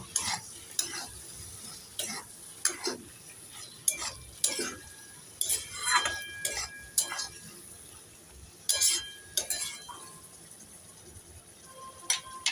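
A spoon stirs sugar into a vegetarian Bengali kochur loti curry made with mustard and poppy seed, clinking and scraping against the pan in irregular strokes over a faint, steady sizzle.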